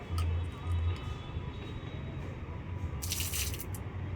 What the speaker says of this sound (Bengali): আর একবার ধুতে হবে অনেক বালি ব্যাস জলপাইটা ধুলাম